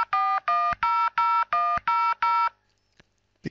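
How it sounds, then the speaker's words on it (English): DTMF dialing tones from a phone app held up to the handset of a German Weltfernsprecher 48 telephone: seven crisp, evenly spaced tone bursts, then quiet and a couple of soft clicks. "With a DTMF tone generator app, you can easily generate the dial tone."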